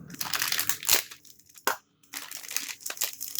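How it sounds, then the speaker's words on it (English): Plastic blister packaging of Reaper Bones miniatures being cut and pulled open up close, quiet crinkling and crunching in short bursts with brief pauses between. "We'll go ahead and cut this one open."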